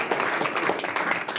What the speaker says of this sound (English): You can give Todd a little applause.